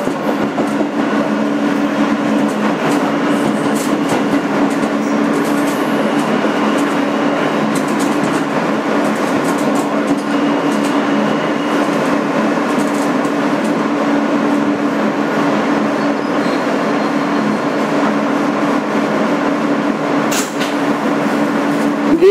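Interior of a 2008 Kawasaki R-160B subway car, #8842, running as an N local on the BMT Sea Beach line in New York: a loud, continuous motor hum and rumble with steady rail clatter throughout, no announcements or voices.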